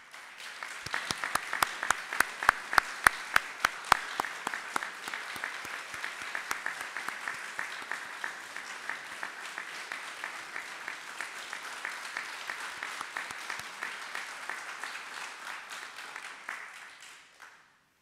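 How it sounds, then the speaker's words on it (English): An audience applauds past alumni award recipients at an evening alumni reunion program, a sustained round of clapping with sharper individual claps early on that settles into a steady wash and fades out near the end. "Please stand and let's give them a round of applause."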